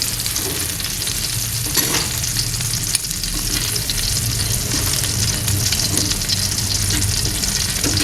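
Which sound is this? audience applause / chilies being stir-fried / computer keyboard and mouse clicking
chilies being stir-fried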